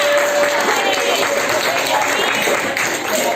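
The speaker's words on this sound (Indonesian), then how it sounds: "Tepuk tangannya" Classroom applause for the second-place winner at a school lesson, steady dense clapping from students filling the room throughout, close and moderately loud, with some voices underneath.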